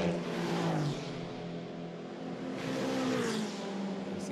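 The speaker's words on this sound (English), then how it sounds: "love the sound of those turbocharged four-cylinder engines at Song as they ease their way through turn four" Turbocharged four-cylinder race cars easing through turn four at Canadian Tire Motorsport Park during an SCCC sprint race, engine tones rising and falling as cars pass, a second car sweeping by near the end, loud and unbroken.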